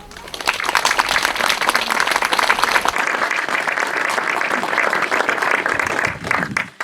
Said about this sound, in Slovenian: velik aplavz vam